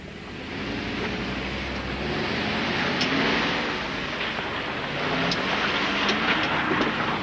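A Land Rover climbing a rough off-road track at a driver training course, with a low engine drone rising and falling under heavy wind buffeting on the microphone and no speech.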